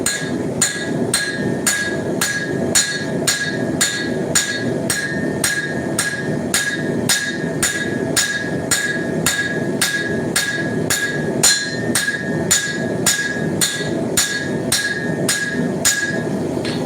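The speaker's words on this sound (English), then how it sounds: "I'm going to hammer, I'm going to start forging my blade out." Hammer striking hot steel on an anvil while forging a knife blade from a horseshoe, loud sharp metallic blows in a steady, fast, even rhythm throughout.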